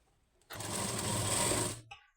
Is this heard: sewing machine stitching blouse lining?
yes